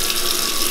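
A kitchen hot water tap runs steadily into the sink, a close, even hiss of flowing water with no other sounds.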